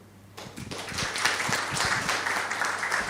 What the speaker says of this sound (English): Please join me in a warm welcome of round of applause as she delivers the lecture today.